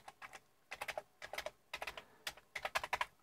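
Typing on the keyboard of a Commodore VIC-20 computer being tested after repair: quick clusters of crisp key clacks in irregular bursts with short pauses between, close and fairly quiet, with no talking.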